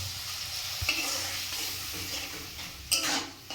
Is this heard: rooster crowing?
no